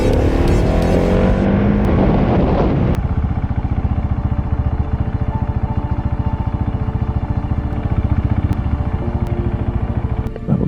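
A 2023 GasGas SM 700 single-cylinder supermoto engine revs loudly up close at first, then settles into a steady, rapid thumping idle that runs unbroken to the end.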